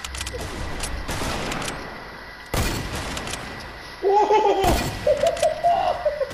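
Gunfire in a shooter video game: sharp shots ring out at intervals of about a second, with a strong crack near the middle and another loud burst later, alongside whistling game effects and a steady background of game noise.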